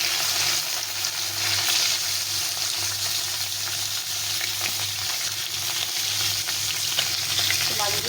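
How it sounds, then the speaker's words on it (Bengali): Whole fish, likely shol (snakehead), frying all at once in hot oil in a wok: a dense, steady sizzle and crackle that holds loud and even throughout, with no voices. "সবকটা মাছ একবারে ভেজে নেব।"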